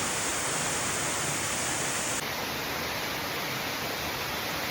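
A waterfall on Maui roars as a steady, dense rush of water, loud and unbroken throughout, with no voices over it.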